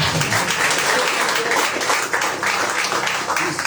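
Loud congregation applause during a miracles church service, continuous clapping throughout with some voices mixed in underneath.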